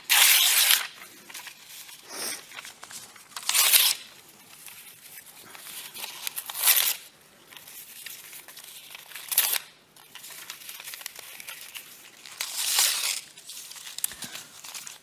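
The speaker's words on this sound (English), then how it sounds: "let's watch you tear paper" Paper torn by hand in a clinical hand-function evaluation, the patient holding still with one hand and tearing with the right: several separate loud tearing bursts with quiet pauses between them, close by.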